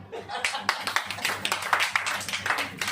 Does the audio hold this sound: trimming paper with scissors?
no